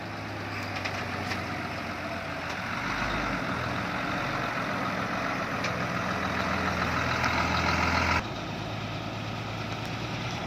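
A heavily loaded HINO F18 ten-wheel truck hauling sugarcane along a narrow canal-side track, its diesel engine a steady loud drone with rattling and creaking load noise throughout.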